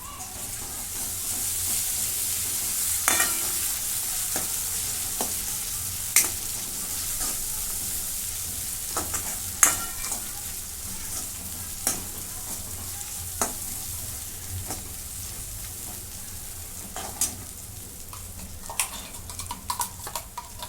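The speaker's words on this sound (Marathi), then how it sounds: "त्याच्यामध्ये आलू लसूणची पेस्ट टाकून घेते परतून घेते" Ginger-garlic paste fries with browned onion in a pan, a steady sizzle broken by frequent sharp scrapes and taps of a spoon as it is stirred, close and fairly loud with no talking.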